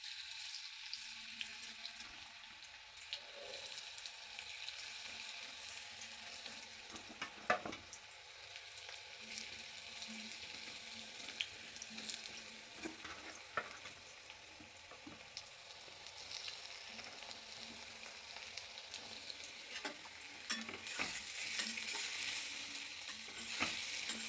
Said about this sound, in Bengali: আমি এগুলো এইভাবে ভেজে নেব